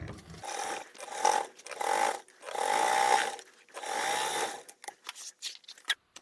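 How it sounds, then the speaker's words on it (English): A sewing machine stitches a tote bag seam at half-inch allowance, running in several sustained bursts of steady mechanical whirring separated by short pauses, ending with a few brief handling clicks. "we're over at the sewing machine, and we're just sewing this together with a 1/2 inch seam allowance"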